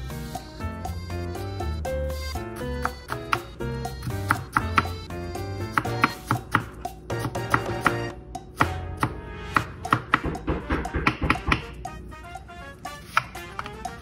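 A knife chops ginger into small pieces on a board, giving quick, close, irregular taps that come in bursts, with music playing underneath.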